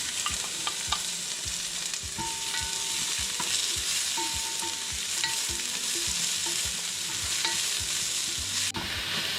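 Garlic and onion sauté in a home pot with an organic harvest, a steady close sizzle and frying hiss broken by repeated scraping and stirring clacks of a utensil throughout.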